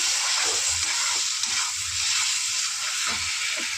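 Spices crackle and sizzle in hot oil for a Bengali tarka dal tempering, a steady close hiss with faint stirring bumps throughout and no talk.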